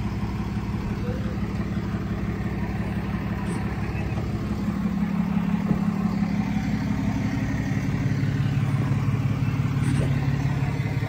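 A 2018 Dodge Ram 2500HD Laramie Mega Cab 4x4 pickup idles steadily at close range, its low engine rumble holding even throughout with a slight rise partway, and faint voices in the background.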